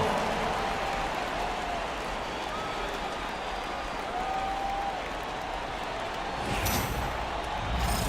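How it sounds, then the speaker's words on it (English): Arena crowd applause during a timeout at an NBA playoff game between Philadelphia and Atlanta, a steady wash of clapping and cheering from a large crowd lasting throughout, with a sharp burst near the end. "Give yourself a round of applause."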